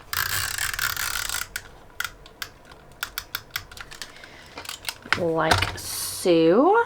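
Adhesive tape is pulled and laid onto a reading journal page in a quick series of short, sharp crackles and peels, ending with longer stretching rips of tape near the end, with a voice speaking briefly.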